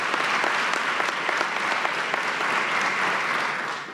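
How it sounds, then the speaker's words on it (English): A crowd applauds at an LMPD police promotional ceremony, sustained even clapping from a large room that fades slightly at the end. "Give her a round of applause."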